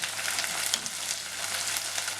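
Garlic, green chilies and curry leaves sauté in a hot pan with a continuous bright crackling sizzle, close and even, with light stirring.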